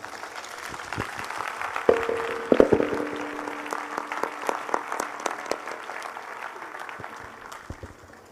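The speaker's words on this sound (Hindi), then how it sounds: "आइए हम सब उनके लिए एक अच्छा क्लैप करें, एक अच्छी ताली बजाएं" A church meeting congregation claps for the visiting pastors, a moderate, scattered applause with sharp individual claps spread over several seconds and gradually thinning out.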